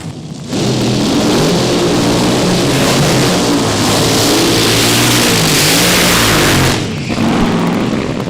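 A Nitro Clown AA fuel dragster at a Mo-Kan Dragway drag race qualifying run blasts out a loud, continuous nitro engine roar for about six seconds, swelling in and cutting off abruptly, with crowd rumble around it.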